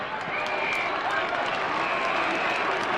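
Steady roar of a large football crowd at a 1987 Geelong v Essendon match, a dense, continuous wash of cheering and applause with no breaks across the whole stretch.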